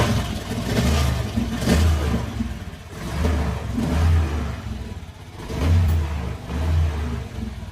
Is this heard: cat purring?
no